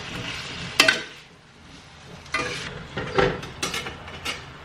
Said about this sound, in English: just make sure that you stir everything so your papas don't get stuck